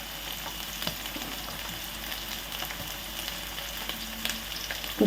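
Onions and green chillies sizzling in hot oil in a pan for Telangana-style fish curry, a steady close crackle with occasional stirring scrapes and no talking.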